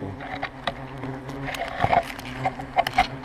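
Insects buzzing close by in a steady swarm, with brief sharp clicks and light knocks over a constant drone.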